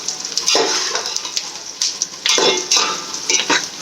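Onions sautéing in a pan for chicken biryani, a steady sizzle with repeated scraping stirs of a spoon against the pan, close and fairly loud, with no talk.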